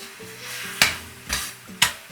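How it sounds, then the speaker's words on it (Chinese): Eggplant and garlic sprout pieces are stir-fried over high heat, with a low continuous sizzle. Three sharp scraping tosses of the spatula or wok land about half a second apart. "最后下入蒜苗段，简单翻炒几下"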